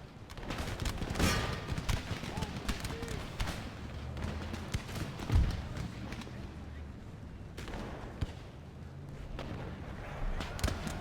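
Musket volleys crackle through a large Empire Total War battle, with ragged fusillades, scattered shots and a deeper boom, a dense, moderately loud din of distant gunfire over about eleven seconds beneath faint voice.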